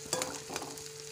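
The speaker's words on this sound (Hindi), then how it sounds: "और इसको अच्छे से भुनने देंगे थोड़ी देर" Potatoes and whole red chillies fry in a pan for dum aloo, giving a close, steady sizzle with a couple of light stirring scrapes.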